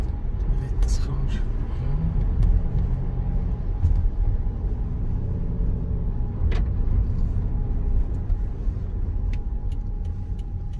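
A car drives along a side road during a hailstorm near Reichenburg, its steady engine and road rumble continuous and fairly loud, with occasional sharp knocks on top. Quiet voices are heard.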